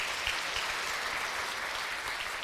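Sustained applause from a church congregation at an Easter Sunday worship service, steady and fairly loud throughout, with no voices rising above the clapping.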